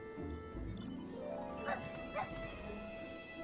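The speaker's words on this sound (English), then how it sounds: "I know it's a Mama Shiba, a Shiba Inu" A Shiba Inu dog in Final Fantasy XIV gives two short, sharp barks about half a second apart over a steady backdrop of game music.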